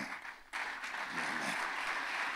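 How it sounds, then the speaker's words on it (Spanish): Church congregation applauding during a worship service, a steady broad wash of clapping that swells after a brief quieter start and keeps going loud and dense throughout, with no talk over it. "Dale un aplauso"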